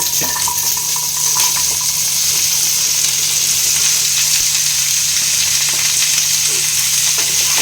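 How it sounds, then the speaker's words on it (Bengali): Ridge gourd frying in hot oil with panch phoron gives a steady, loud sizzle that runs unbroken the whole time, with faint watery crackle and no talking. "এরপর আমি ফুটটা যেটা ধুয়ে রেখেছিলাম সেটা"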